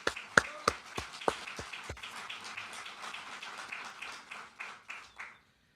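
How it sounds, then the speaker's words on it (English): A small group applauds an award for a lunar rover company, starting with a few sharp, distinct claps up close and blending into quieter, softer scattered clapping that fades out after about five seconds. "So give Lunar Outpost a round of applause."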